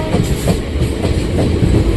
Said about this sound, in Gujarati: ભાવનગરની ટ્રેન આવી છે વેરાવળ તરફ જઈ રહી છે એ ટ્રેન આવી ગઈ છે